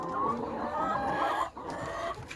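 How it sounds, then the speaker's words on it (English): Many chickens clucking together inside a layer farm house form a dense, continuous chatter of overlapping calls at moderate loudness, with no talk. "Curious chickens."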